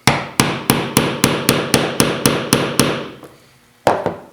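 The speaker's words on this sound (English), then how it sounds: "we'll just tap that down a little bit farther, and then we'll take our 5/64 punch and fully seat that roll pin" A roll pin being tapped into a Ruger LC9 pistol with a 5/64 punch: about eleven sharp, evenly spaced metallic hammer taps at close range, then a short pause and one final tap.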